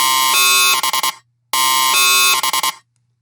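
A loud, harsh dubstep growl synth bass plays twice, each phrase holding steady and then stuttering into quick choppy bursts before cutting off.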